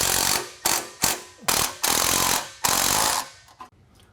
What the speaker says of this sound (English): now we're going to go ahead and tighten down our factory hardware using the 14 millimeter.